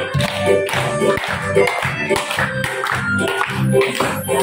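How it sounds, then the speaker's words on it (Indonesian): Rhythmic hand clapping in a steady beat, fairly loud and close, with children's voices mixed in. "Tepuk tangan."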